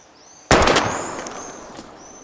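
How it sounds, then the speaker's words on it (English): A single loud gunshot fired at bottles in the video game Life is Strange, with a sharp crack and a long, fading echoing tail. "We're gonna shoot all these bottles without wasting a single bullet."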